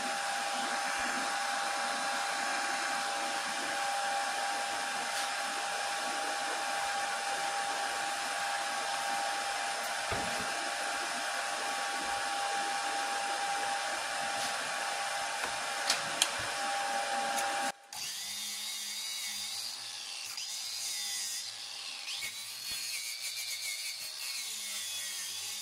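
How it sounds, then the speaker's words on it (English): Wire wheel on a power tool cleaning slag off tack welds on a steel target stand, a loud steady high whine running close and continuously before it cuts out and spins down. "I'm just gonna hit it with a quick pass with the wire wheel."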